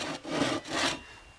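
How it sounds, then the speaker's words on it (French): A fine-toothed saw cuts a shallow groove around a wooden stick being carved into a bead, two distinct rasping strokes close by, each stroke about half a second, with a short pause between. "je vais faire un trait de scie tout au long de ma perle, au diamètre de ma perle"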